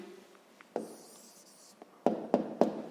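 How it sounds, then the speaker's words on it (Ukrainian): A pen scratches out a handwritten answer to a fifth-grade maths exercise: soft, close scribbling strokes, then three sharper, louder bursts of writing near the end, with no voices. "записуємо відповідь"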